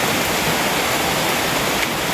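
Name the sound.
small stream flowing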